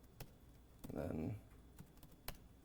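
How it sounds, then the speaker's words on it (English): Fingers tap on a computer keyboard in quick, scattered clicks, quiet and close, with a brief burst of speech partway through. "I typed that wrong."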